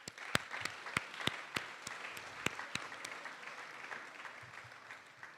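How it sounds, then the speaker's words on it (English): Audience applause for first-year seminar faculty at a campus talk, a moderate, steady patter of many hands with a few sharper, louder claps standing out near the front, heard alone without speech. "I think that you should give them all a round of applause"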